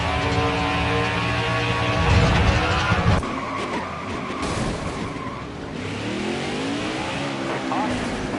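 A NASCAR Xfinity race car spinning out at Darlington Raceway, with loud engine roar and tire skid sweeping through, rising and falling as the car slides, a voice talking over it.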